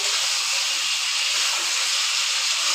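Chicken fries with onions in a pan, giving a loud, steady, close hiss that runs unbroken and alone, with no talk.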